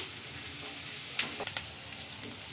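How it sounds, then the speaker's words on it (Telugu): Onions frying in a pan while making a ridge gourd milk curry, a steady close sizzle with a few scraping stirs and light clicks in the middle. "ఇప్పుడు ఆనియన్స్ బాగా ఫ్రై అయినాయి కదండి."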